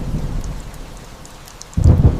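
Rain pours steadily over a drowned city while low thunder rumbles underneath, swelling into a louder, heavier roll near the end.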